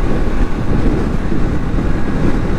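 Wind buffets the microphone while a motorbike rides at about 40 km/h along a highway over a flyover, giving a continuous, loud, low rumbling whoosh with small gusty swells and no speech.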